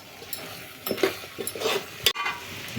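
Mutton curry with turmeric and ginger is stirred in a pot over a wood fire, with scraping spoon strokes, soft sizzling and a sharp clank of metal on the pot near the end.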